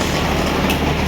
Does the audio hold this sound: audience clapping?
no